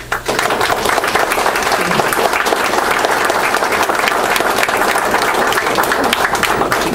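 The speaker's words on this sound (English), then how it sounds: "let's give him a round of applause" Loud, dense audience applause starts abruptly and holds steady for several seconds as a speaker is welcomed, many hands clapping close by with a faint crowd murmur beneath.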